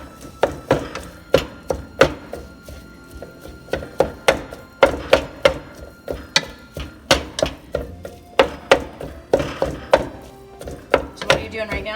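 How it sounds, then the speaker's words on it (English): A knife chops sausage steadily on a wooden cutting board, sharp thunks repeating at a quick, fairly even rhythm, close and distinct. "So I'm chopping up the sausage so it cooks a little more evenly and quickly."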